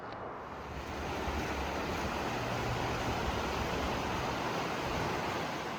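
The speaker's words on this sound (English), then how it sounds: "we have a waterfall right here and a cool old water wheel from a mill" Rushing water from a waterfall beside an 1893 mill water wheel, heard as a steady broadband roar that swells after the first second and holds continuously, close and fairly loud with no voices over it.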